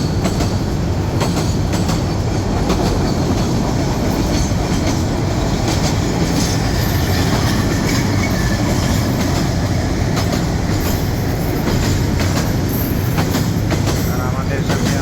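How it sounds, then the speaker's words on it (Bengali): A freight train rolls past close by with loud continuous rumbling and clickety-clack of wheels on rails, some metallic squeal on top; a voice talks faintly underneath. "মালবাহী ট্রেন যাচ্ছে"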